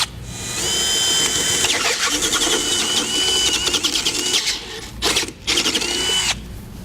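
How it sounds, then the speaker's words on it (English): Power drill boring holes into the steel front frame rails of a 2006 Ford F-250 for a Curt front-mount hitch, a steady close whine running several seconds with load changes, brief pauses near the end, then drilling resumes. "Now we're going to drill our holes out. We're going to start with a smaller bit and gradually work up."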